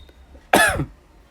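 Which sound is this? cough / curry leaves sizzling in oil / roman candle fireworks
cough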